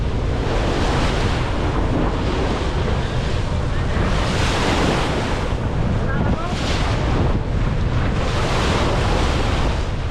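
Pacific Ocean waves wash and surge continuously while strong wind buffets the microphone, making a loud, steady roar from open water at sea.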